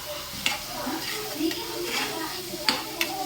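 Salted chicken stirred in a cooking pan, with a steady sizzle beneath scraping strokes and a few sharp clinks of the spoon against the metal, all close by.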